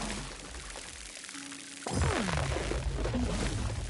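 Watering plants with a watering can in the video game Song of the Evertree: a steady game splashing pour swells in partway through and keeps running, fairly loud and close, with no talk over it.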